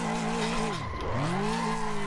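A Toyota Supra drifts in a racing video game, its engine droning in a steady pitch that dips and rises again as the tires squeal through a slide, loud and continuous.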